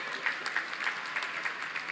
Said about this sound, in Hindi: तो 25 लाख तालियां तो बजाइए दोस्तों।